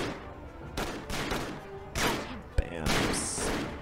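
Shots fired at smugglers in the mobile game Murder in the Alps, a few sharp, separate bangs among the game's other sounds, with a voice talking over them.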